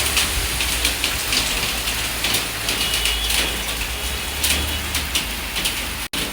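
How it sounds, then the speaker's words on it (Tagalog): Steady rain falls in Kuwait, a dense and even hiss of drops striking nearby surfaces that carries on without a break. "It's raining."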